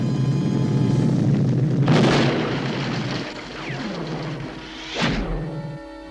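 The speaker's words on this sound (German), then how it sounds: "Das wird gleich explodieren." A deep booming cartoon explosion from The Smurfs erupts near the start, followed by rumbling debris and a second sharp burst near the end.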